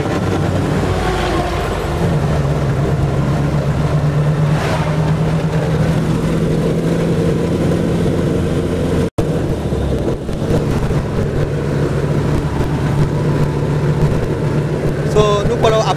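A newly built car runs and drives with a steady engine drone and road rumble that stays continuous throughout, broken only by one short dropout partway through.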